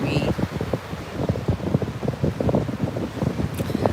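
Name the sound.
wind blowing on microphone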